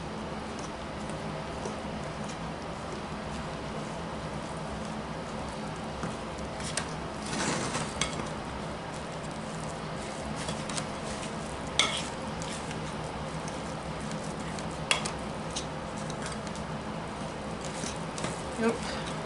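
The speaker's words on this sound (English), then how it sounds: "We're gonna add this in to our topping. We're gonna stir it all up." Apple crisp topping is stirred in a bowl, giving a continuous soft scraping and rustling with occasional sharper clicks of the utensil against the bowl, while faint voices are present.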